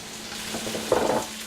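Celery and peppers dropped into a hot frying pan with browned onions for chili, giving a close, steady sizzle that swells briefly as the vegetables land; no voices.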